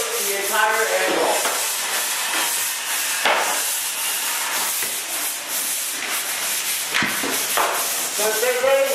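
A sanding tool rubs back and forth along a drywall angle joint, giving a steady gritty scraping with repeated strokes at close range and no talk.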